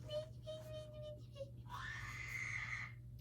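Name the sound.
a scream heard on the recording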